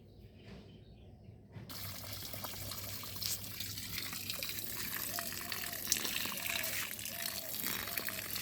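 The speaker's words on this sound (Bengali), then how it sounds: "এবারে জল দিয়ে দেওয়া হবে।" Water pours steadily at the base of a rooftop citrus plant after rice and lime were added as fertilizer, a continuous splashing gush that starts abruptly and runs on at moderate volume.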